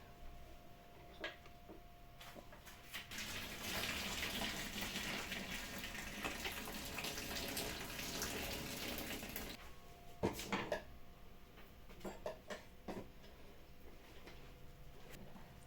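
Cooking water from boiled green plantains and garden eggs pours out in a steady gush for several seconds, followed by clatters of pots and utensils being handled nearby.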